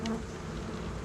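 Honeybees hum inside a Flow Hive during a mite treatment, a steady close buzzing drone with a brief louder whine at the start, heard alone with no voices.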